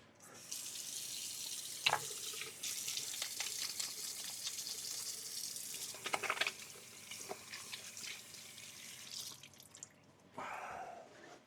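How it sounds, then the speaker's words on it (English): Tap water running steadily into a sink while hands are washed beneath it, a close, continuous splashing hiss with small shifts as the hands move, stopping briefly before a final burst. "Let me wash my hands really quick"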